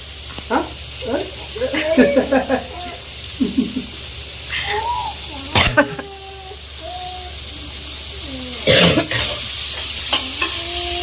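Onions and ginger garlic paste sautéing in a pan, heard as a soft sizzle with stirring, under a voice and light kitchen clatter.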